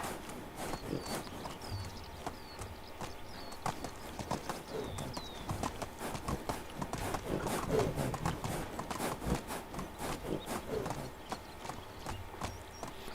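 Hooves of a ridden, overburdened donkey clip-clop steadily in the Medieval Dynasty video game, an even walking rhythm running throughout with faint chirps above and light speech in places.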